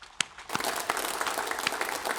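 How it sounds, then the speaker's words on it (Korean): A church congregation at a Sunday worship service applauds: a few isolated claps first, then a sustained round of clapping, soft and slightly distant. "우리를 하나님의 세계복음의 직원으로 세우신 하나님께 영광의 박수를 드리겠습니다."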